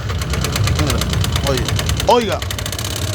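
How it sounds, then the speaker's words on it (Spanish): A Yamaha Nmax 155 scooter engine idles close by with a loud, strange rhythmic knocking, a fast steady pulse under a man's brief Spanish speech. "miren el ruido tan escandaloso que le salió a esta motocicleta."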